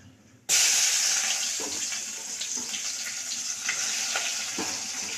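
Sliced onions with cinnamon drop into a hot pan and erupt into a sudden loud sizzle, then keep up a steady, close crackling hiss with a few faint scrapes.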